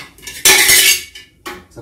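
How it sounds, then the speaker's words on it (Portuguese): A metal pressure cooker pot that held cooked meat is handled in a kitchen sink, giving a burst of loud clanking and scraping followed by a few shorter clinks of metal cookware. "Vou pegar essa panela de pressão, foi feito carne"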